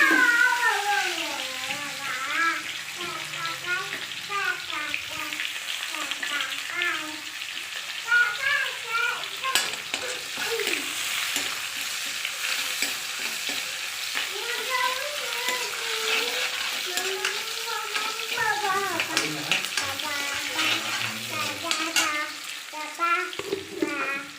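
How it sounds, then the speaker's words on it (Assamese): Onions fry with bay leaves in a sugared pan, giving a continuous soft sizzle and the scrape of stirring while someone talks over it and other voices and laughter come through now and then. "পিঁয়াজখিনি অলপ ৰং হোৱালৈকে ভাজি আছোঁ"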